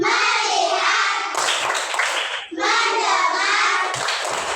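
Children clap their hands in rhythmic bursts during a classroom clapping game, the claps dense and loud with young voices mixed in throughout.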